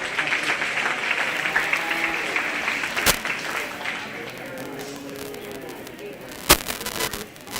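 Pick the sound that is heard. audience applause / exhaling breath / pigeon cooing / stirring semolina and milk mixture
audience applause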